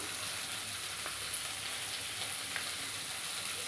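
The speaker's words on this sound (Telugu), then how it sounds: "రుచికి సరిపడినంత ఉప్పు వేసుకొని బాగా ఫ్రై చేసుకోవాలి" Tomatoes with turmeric frying for okra chutney, a soft, even sizzle with a few faint stirring ticks and no voices.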